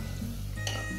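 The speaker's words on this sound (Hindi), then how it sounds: "इसमें हम अभी डालेंगे जो हमने ये अनियन टोमेटो और हरी मिर्च का जो पेस्ट बना है डालेंगे" An onion, tomato and green chili paste hits a hot pan for bhuna chicken, a short loud sizzle with a sharp burst of spitting partway through over a steady frying hiss.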